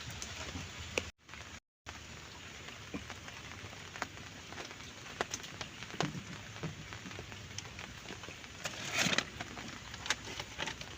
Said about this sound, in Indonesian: Wih, gerimis panjang masa ini.